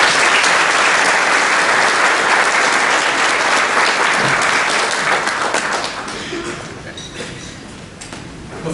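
Hall of fame ceremony audience at Cameron University breaks into sustained applause, a dense wash of clapping that holds steady and then fades out over the last few seconds.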